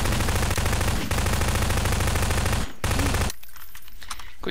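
Rapid automatic gunfire in Garry's Mod, loud and close, a dense continuous burst of shots that cuts off briefly, resumes, then stops, leaving a quieter game background.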